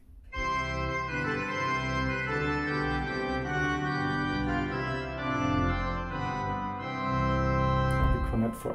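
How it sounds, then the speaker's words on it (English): Rieger pipe organ, the new Vienna instrument, plays a sustained solo melody on one manual over a soft chordal accompaniment on a second, full and steady throughout with rich held tones and no speech. "try to have a solo voice on one manual and an accompaniment on the second one, which can sound like this."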